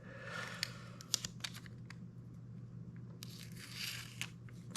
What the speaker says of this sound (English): Maybe I'll just cut it with a knife.